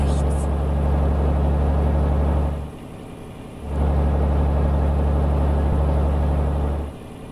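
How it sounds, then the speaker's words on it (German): A loud truck engine in Euro Truck Simulator 2, heard with the cab window open: a heavy, steady low drone that dips twice into a quieter lull before surging back, with no talk over it. "LKW ist halt nur sehr, sehr laut."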